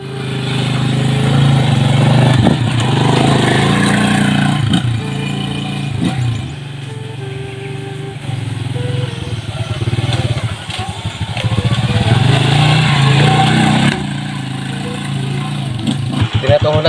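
A motorcycle engine running nearby, its drone rising and falling with revs over several seconds, while people talk over it.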